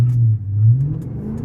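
A Chrysler 300 with a 5.7 Hemi V8 revs on an icy surface, its deep engine note droning and rising briefly as the tires slip, loud and close, with no talk.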